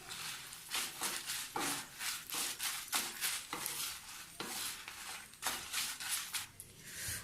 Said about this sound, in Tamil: நீங்கள் இதை நல்லா ஃப்ரை பண்ணிக்கோங்க.